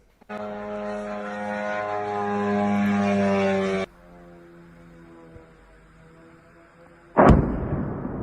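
An attack drone flies over a chemical plant near Krasnozavodsk in the Moscow region. Its propeller engine gives a loud buzzing drone that cuts off abruptly, leaving a fainter hum, followed by a sudden sharp blast.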